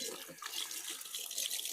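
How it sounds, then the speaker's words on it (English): Tap water runs steadily into a sink while hands are rinsed, a brief, close, continuous splashing hiss with no speech over it. "Then we'll rinse my hands off real quick,"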